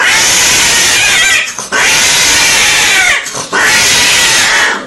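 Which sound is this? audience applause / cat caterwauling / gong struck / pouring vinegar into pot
cat caterwauling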